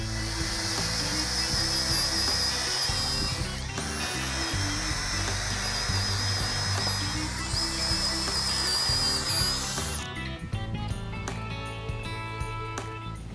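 A power drill with a masonry bit whines steadily and loudly for several seconds, biting into a concrete post with a high-pitched grinding tone, then cuts out.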